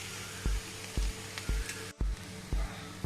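Scrambled eggs with vegetables sizzle steadily in a pan on the stove, with regular dull knocks of a spatula about every half second as the mixture is stirred until dry.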